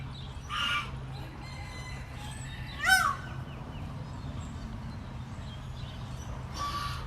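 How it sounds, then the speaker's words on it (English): Pekin and call ducks on a farm, giving a few short bursts of quacking and gobbling-like calls, one louder and closer, over a low steady background hum. "Today we will be talking about the Pekin ducks and also the call ducks that we have here on the farm."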